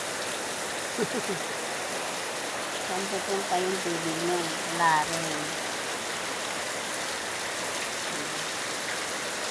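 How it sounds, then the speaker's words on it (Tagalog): Steady rain falling all day in a rural Filipino household, a soft, constant hiss of drops on surfaces heard close by, with people talking quietly over it. "Hanggang maghapon, ulan ng ulan."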